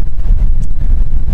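Strong gusts buffet a microphone outdoors at Beaver Lake during a long-range rifle shooting session, producing a loud, continuous low rumble and roar.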